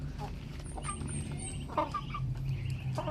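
Native chickens cluck and chatter nearby in a short run of calls, with a higher bird chirping over a low background hum.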